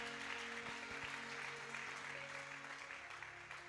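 Congregation applauding during a church service, a steady wash of clapping from many hands that fills the space at moderate distance, with a sustained organ or keyboard tone underneath.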